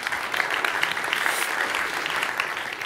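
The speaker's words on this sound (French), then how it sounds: "On peut l'applaudir." A studio audience on a French-language talk show breaks into a short burst of steady, fairly close applause that carries through the whole moment.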